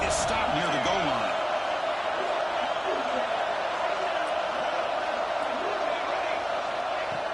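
A football stadium crowd at a Notre Dame Fighting Irish game roars steadily as the defense tries for a stop near the goal line, a loud, unbroken wall of noise with a commentator's voice faintly underneath.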